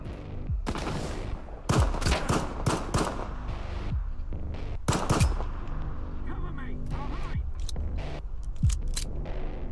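Enemy gunfire in S.T.A.L.K.E.R. 2 Heart of Chornobyl cracks out as sharp single shots and short volleys spread across the stretch, loud and close over a steady background rumble.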